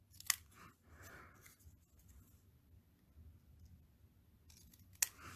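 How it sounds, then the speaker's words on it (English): Scissors snipping punched paper pieces for penguin punch art, two sharp close clicks at the start and end with soft paper rustling and faint snips between, no voices. "Then I'm going to cut these off."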